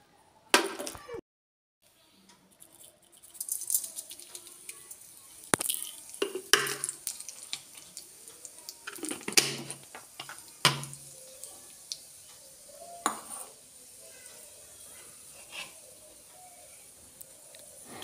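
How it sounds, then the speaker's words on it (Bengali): Panch phoron spices sizzling in hot oil in a wok, crackling and popping in scattered bursts with faint stirring, close and moderately loud. "তেলটা গরম হয়ে গেলে আমি একটুখানি পরিমাণ মতো পাঁচফোড়ন"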